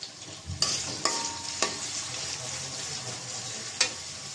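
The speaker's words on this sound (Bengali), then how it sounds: "পেঁয়াজটা ভেজে নেব" Chopped onions fry in oil in a kadai with a steady close sizzle, broken by a few sharp scrapes and clinks of a spatula stirring against the metal pan.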